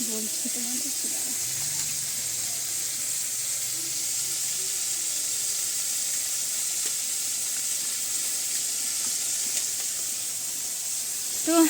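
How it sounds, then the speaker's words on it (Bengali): Tengra fish frying in a pan at home, a continuous soft hiss and spatter of oil, close and fairly steady, with a low voice heard briefly near the start. "ট্যাংরা মাছ ভাজা বসিয়েছি"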